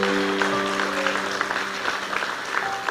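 Congregation applauding during a Brazilian church celebration service, a dense steady wash of clapping with sustained organ or keyboard tones ringing underneath throughout.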